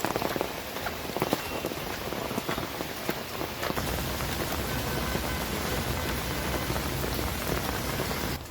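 Heavy rain pours down steadily, dense hissing patter on surfaces close around, loud and continuous with no talk.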